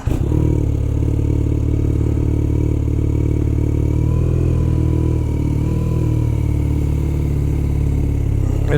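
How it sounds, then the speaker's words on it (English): A stock 2023 BMW R nineT motorcycle ridden on a commute, its boxer engine droning loud and steady throughout with slight shifts in pitch, close up, no talk over it. "today I'm riding to work on my own bike. It's a 2023 RnineT."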